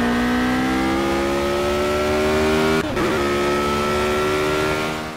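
Car engine in the racing game Project Cars, a loud sustained whine climbing in pitch under acceleration, briefly dipping at a gear change before rising again; no voices.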